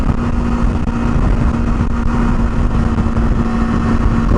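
Kawasaki Versys-X 300 motorcycle engine cruising steadily at about 60, a continuous loud drone with a constant hum and heavy wind-like rumble, no talking.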